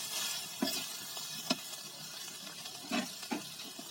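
Potatoes frying in a pan for aloo bhaji give a steady close sizzle, with a few sharp stirring clanks and scrapes breaking through it.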